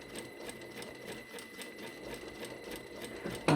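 A sewing machine running a second gathering stitch line on a tulip-shaped sleeve, a quiet steady rapid needle patter with a faint motor hum and a brief louder bump at the end, with no talk.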